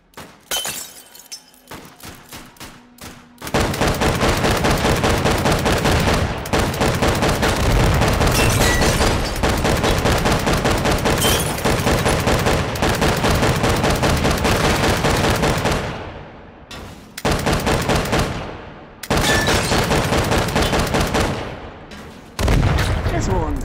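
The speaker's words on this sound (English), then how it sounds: "Explosion for days here." Relentless explosions and rapid gunfire from the VR shooter game H3VR, loud and almost continuous, with dense bursts of blasts and shattering debris broken by only a few short pauses.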